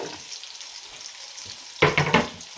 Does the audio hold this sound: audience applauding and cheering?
no